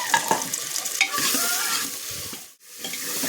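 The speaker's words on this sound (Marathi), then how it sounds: "तर टोमॅटो आपला इथं तेलामध्ये छान भाजलेला आहे." Chopped tomatoes frying and stirred in hot oil with an onion paste for Mumbai-style pav bhaji, a steady close sizzle broken by spoon scrapes and stirring clatter, with a brief dip near the end.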